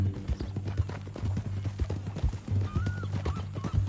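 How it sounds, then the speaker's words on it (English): A horse in the open-world Western game Red Dead Redemption II walks with steady hoof clip-clops up close, snorting and giving a short whinny partway through. "That a new horse?"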